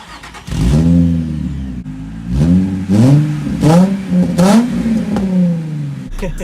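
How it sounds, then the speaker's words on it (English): A Nissan 350Z sports car engine revs loudly and close by, in several rising and falling bursts with brief easing between them, with no talking. "what I can say is the actual sound of the car is ridiculous"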